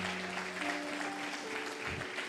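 A church congregation applauding during a worship service, steady rapid clapping at moderate level mixed with a sustained low musical hum and some faint voices.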